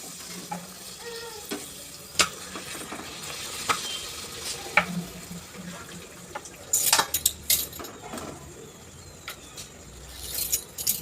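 Cutlets slip into hot oil and sizzle softly at close range, with sharp spoon or utensil clinks and clatters punctuating a low frying hiss.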